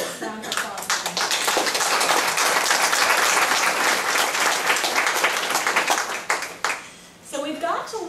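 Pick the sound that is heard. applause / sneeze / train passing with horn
applause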